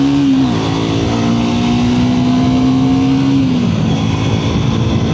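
A Triumph Tracker 400 motorcycle engine revs and accelerates close by, its tone rising briefly, holding steady for a few seconds, then dropping away into a rougher, fluttering idle-like rumble, loud and continuous with no talk.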